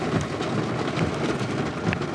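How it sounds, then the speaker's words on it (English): Heavy rain pouring steadily outdoors on a hillside backyard during a storm, a dense constant hiss with a low rumbling undertone, no voices. "Again, getting rained out of the pool plumbing project."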